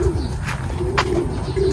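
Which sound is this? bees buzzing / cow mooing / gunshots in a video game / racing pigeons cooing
racing pigeons cooing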